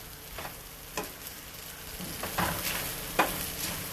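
Boiled ramen noodles frying in a pan with oil and butter, a steady low sizzle with a few sharper scraping stirs, close and moderately loud with no talking.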